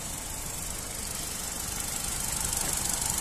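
The 1.2-litre petrol engine of a red Hyundai i10 automatic hatchback runs at a steady idle, a close, even broadband rumble with a faint rattle, heard alone.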